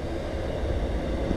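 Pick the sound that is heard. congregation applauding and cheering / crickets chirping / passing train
passing train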